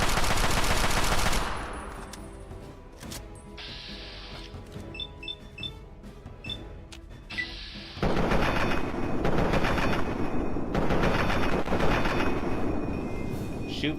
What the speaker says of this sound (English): Shoot for the head, because even if you miss, you'll still land amongst the torso.